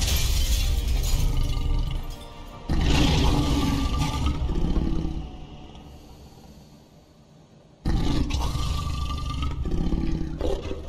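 Glass shattering in the video game The Wolf Among Us: loud, dense crashing bursts break out twice within steady, heavy fight noise, with a quieter stretch between them.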